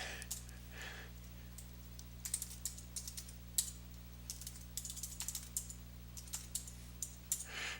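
Commands typed on a computer keyboard, heard as quiet, close, irregular bursts of key clicks over a low steady electrical hum.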